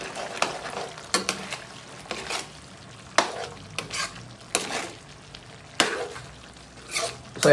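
A spoon stirs Bicol Express pork cubes in coconut milk in a pan, giving repeated scraping strokes in an uneven rhythm over a steady background sizzle. The sounds are close and moderately loud, with no talking.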